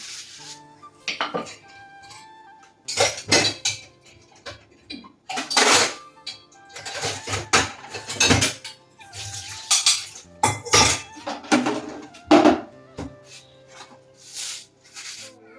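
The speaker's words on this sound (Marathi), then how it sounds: "भांडी वगैरे घासून घेते" Dishes being washed by hand: intermittent clinks and clatters of pots and utensils, bursts of scrubbing, with quiet pauses between.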